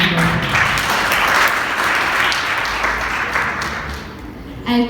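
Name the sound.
audience applause for the poet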